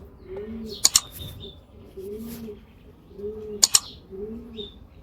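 Silver Shirazi pigeons in a cage coo in low, repeated rolling phrases, about four calls spread evenly across the span, with a couple of sharp bright chirps or clicks cutting in between them.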